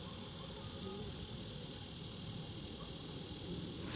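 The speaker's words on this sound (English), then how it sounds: "I noticed all the bees were clustered" Steady droning hum of honeybees clustered in a swarm trap, a faint continuous buzz at low level with no pauses.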